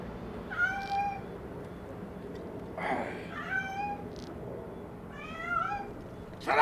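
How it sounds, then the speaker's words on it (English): A cat gives repeated meows, three or four wavering cries separated by pauses over a steady low background hum, near and moderately loud, with a short sharp noise at the end. "Shut up, you damn ass cat!"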